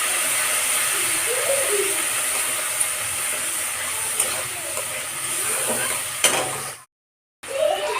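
Ginger and green chili paste frying in hot oil for a vegetarian doi potol curry gives a steady broadband sizzle with faint stirring scrapes, running close and continuous before a brief dropout and resuming.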